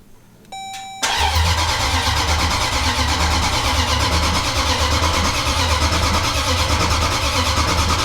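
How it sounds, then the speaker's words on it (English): A forged Jeep SRT 392 Hemi V8 cranks briefly, then fires up and settles into a loud, steady, rumbling idle close by. "keys in the door, it's not going to start. Now it'll start."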